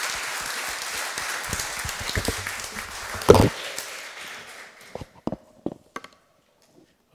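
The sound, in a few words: audience applause for a speaker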